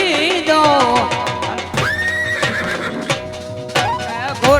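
A horse whinnies loudly at close range with long, wavering neighs, repeated several times over a few seconds alongside a few soft hoof clops.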